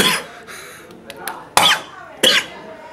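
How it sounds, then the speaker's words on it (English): A person coughs at a 2007 school prom, a couple of sharp, close coughs with softer throat noises in between, loud against quiet background. "I'm coughing"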